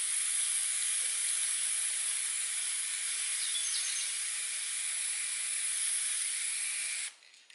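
An aerosol can sprays paint onto boxes for a makeup palette storage project in one long, steady, close hiss that lasts about seven seconds and then cuts off abruptly, with no talking.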